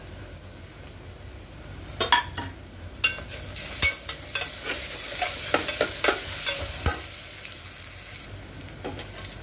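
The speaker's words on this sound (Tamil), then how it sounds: "இஞ்சி பூண்டு பேஸ்ட்டு போட்டு வதக்கிட்டோம்." Ginger garlic paste sautés with onions in a pan for meal maker biryani, with steady frying sizzle under irregular scraping and clinking stirs of a ladle, close and moderately loud.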